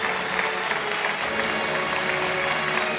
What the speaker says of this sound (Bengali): সেই লড়াইয়ের মধ্যে থেকেও ডাক্তার হওয়ার স্বপ্ন যে দেখে তার জন্য একটা জোরে হাততালি প্লিজ।